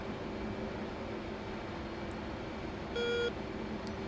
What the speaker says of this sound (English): just heard the radar beep